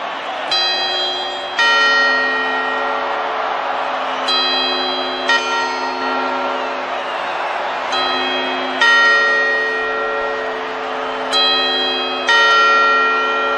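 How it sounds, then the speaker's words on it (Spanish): Church bells ring out over a New Year's Eve gala in Hinojales, striking loud, ringing tones in repeated pairs roughly every three seconds, each strike sustaining and decaying into the next. "Las campanadas."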